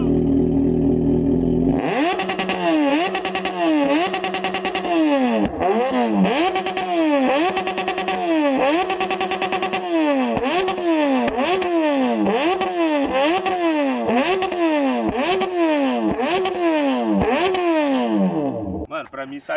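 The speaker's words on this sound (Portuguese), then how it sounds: "a gente vai ligar a moto e vai fazer o primeiro teste" An XJ6 motorcycle engine with a modified exhaust revs hard and repeatedly through a loud, raspy exhaust, rising and falling in quick cycles, close by and continuous for most of the clip.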